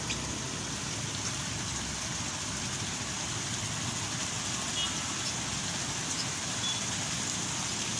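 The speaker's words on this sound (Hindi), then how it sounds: "ब्यूटिफुल वाटरफॉल है ना यहाँ पे" Broadband rushing water of a waterfall right beside a home's gate, a steady, fairly loud roar and hiss that holds unchanged throughout, with no voices.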